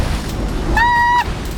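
Waves surge and churn around a sailing boat crossing a shallow bar off north-west Australia, a steady broadband wash of water and wind with a brief whistling tone in the middle.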